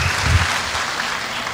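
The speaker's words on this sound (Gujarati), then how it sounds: "એકવાર જોરદાર તાળીઓથી દિવ્યેશભાઈને વધાવીએ." Audience at a Gujarati stage event breaks into loud applause welcoming a guest, continuous clapping close by across the short stretch.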